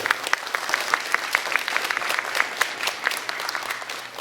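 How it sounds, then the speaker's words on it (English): An audience at a Salanga Puja celebration claps for the girls being honoured, a brisk, loud round of applause that runs steadily throughout with sharp individual claps standing out. "Can we have a round of applause for them?"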